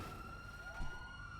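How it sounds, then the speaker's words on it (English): A police siren wails faintly in the distance, a thin steady tone with a slow rising sweep, heard alone over low background rumble. "I hear a siren, so y'all rolling out already?"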